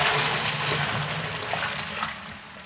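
Hot beer wort in a homebrew batch is poured into a cooking pot, a loud, continuous gushing splash up close that tapers off toward the end, with no talk.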